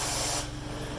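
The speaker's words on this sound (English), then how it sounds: "I don't know if you're paying attention to that steam" A truck-mounted carpet cleaner's wand, fed by a heat-exchanger truckmount, sprays hot steam in a loud hissing burst that cuts off partway through, leaving a low machine hum.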